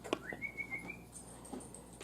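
A person whistles a single rising note that holds steady for about a second, faint and close, calling a dog.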